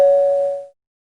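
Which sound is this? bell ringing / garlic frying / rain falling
bell ringing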